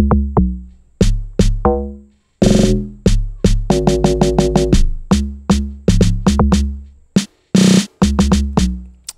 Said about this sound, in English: So with the log drum, this is what it sounds like.